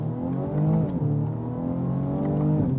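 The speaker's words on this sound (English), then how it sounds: "you get a little more exhaust note, some of which is piped in through the speakers" Engine and exhaust note of a 2020 BMW 2 Series on the move, partly piped through the cabin speakers: a steady, loud drone with rising pitch under acceleration and brief dips at gear shifts, heard from inside the car.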